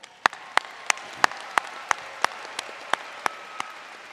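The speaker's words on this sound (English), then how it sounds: "Round of applause, please." Applause from the audience at the McKinney Boyd High School Class of 2024 graduation, with one loud, evenly spaced clap repeating close by over a softer wash of crowd clapping.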